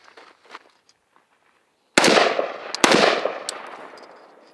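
Rifle test fire: two loud, sharp gunshots about a second apart, each followed by a long fading echo outdoors, preceded by faint handling noises.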